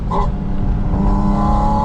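A 2025 Porsche Spyder RS engine on the move, heard from inside the cabin with the intake right behind the driver's head, a loud, steady, rumbling drone with a rising harmonic tone.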